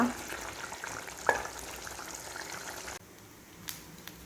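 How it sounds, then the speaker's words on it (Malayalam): Chicken frying in a pan and stirred now and then, a quiet steady sizzle with a brief clatter of the spoon, then a softer hiss near the end. "നമ്മുടെ ചിക്കൻ ഇടയ്ക്കിടയ്ക്ക് ഇളക്കി കൊടുക്കണം."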